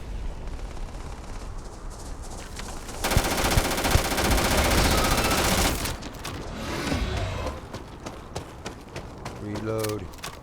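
Gunfire in a firefight in the video game Starfield, with a loud sustained automatic burst in the middle amid scattered shots and combat noise, a voice speaking near the end.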